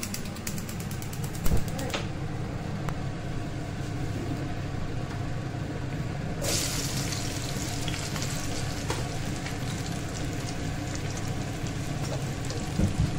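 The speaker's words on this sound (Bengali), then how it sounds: "এখন আমি ঢেঁড়সটাকে ভাজবো" Okra slices frying in a pan with black cumin, turmeric, salt and chilli powder, a steady loud sizzle running throughout with occasional stirring scrapes and clinks, close and continuous.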